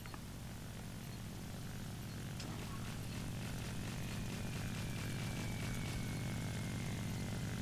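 A propeller plane's engine drones steadily and loudly during takeoff in the combat flight game War Thunder, a dense continuous roar with no pauses and no talk.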